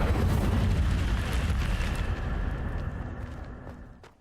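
The Incendio fire spell cast in Hogwarts Legacy, a dense roaring whoosh of flame that starts loud and full, thins out over about four seconds and fades, with faint clicks near the end.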